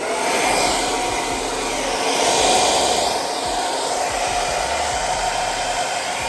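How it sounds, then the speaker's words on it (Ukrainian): A powerful hair dryer of almost 1300 watts blows loudly and steadily at close range, a constant high whooshing roar with a slight swell in the middle. "Також жінка позичила такий от потужний фен"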